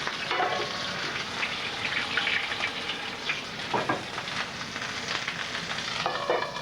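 Meat sears in a little extra oil in a hot pan, a steady close sizzle and crackle with occasional brighter spits and pops, continuous throughout with no talking.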